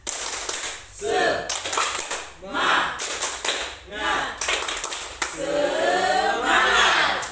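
A classroom group performs a rhythmic spirit clap, sharp clapping bursts in short patterned sequences separated by brief pauses, with young voices chanting along.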